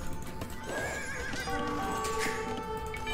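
Horse archers in the video game Age of Empires II set off a loud horse whinny with clip-clop hooves, layered over game music and battle effects.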